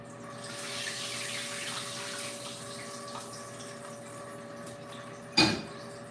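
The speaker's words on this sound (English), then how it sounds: "pour this oil out" Frying oil from a biscuit pan is poured out in a steady, close liquid stream over a constant hum, ending with a brief louder splash or clatter near the end.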